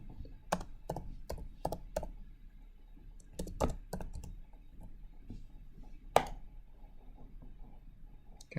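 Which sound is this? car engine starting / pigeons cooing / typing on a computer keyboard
typing on a computer keyboard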